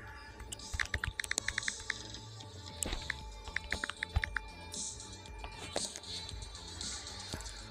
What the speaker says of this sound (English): You're just typing tags.